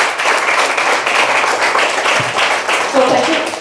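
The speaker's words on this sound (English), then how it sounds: "Can I request for a round of applause?" Audience applause at an evening Dharma talk, a dense steady wash of clapping from a gathered crowd that carries through without pause, with a faint voice briefly near the end.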